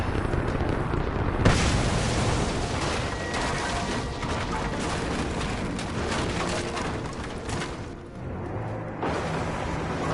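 Bombs explode in the Rise of the Tomb Raider video game as a loud, continuous roaring rumble with sharper blasts punching through near the start and end.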